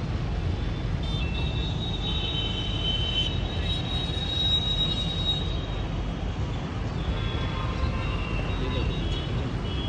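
Metro train running along an elevated track in Faridabad, a steady rumbling wash with faint wheel squeal and metallic tones, heard from a distance amid outdoor background noise.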